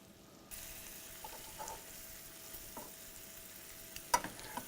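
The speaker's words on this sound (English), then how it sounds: "sizzling and popping." Thin pork cutlets sizzling steadily in a hot pan, with a soft hiss throughout and a few sharp pops and crackles toward the end.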